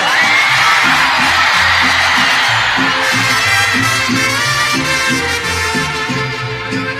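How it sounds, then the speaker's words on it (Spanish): A large crowd at a live corrido concert shouts and cheers continuously over band music, loud and broad throughout. "Cuando yo levanto el sombrero, echen un grito todos."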